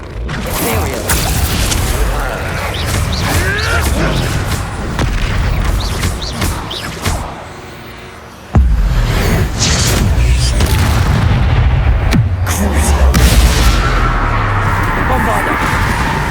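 Bombarda blasting spells set off repeated booming explosions in Hogwarts Legacy, loud and dense with whooshes and crashing debris, a brief lull, then a sudden heavy blast and more rumbling impacts.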